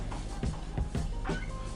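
A cat meows a few short times in quick succession, fairly close, over a low background hum.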